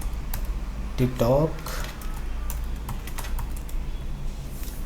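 Computer keyboard typing of a Google search, a run of quick, light key clicks heard under a man's speech, mixed with faint background hum.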